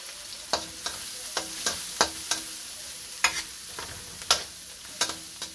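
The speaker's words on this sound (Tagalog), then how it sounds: "Ngayon natin yung sibuyas. Sabay na rin natin yung ating bawang." Onion and garlic sautéing in a hot pan for stir-fried beef with broccoli, a steady frying sizzle broken by a regular series of sharp scrape-and-clack strokes as a spatula stirs, close and without talk.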